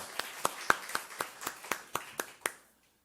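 A church congregation at a Sunday worship service claps in unison, about ten crisp, evenly spaced claps at a steady brisk pace, fairly soft and ringing slightly in the hall before stopping.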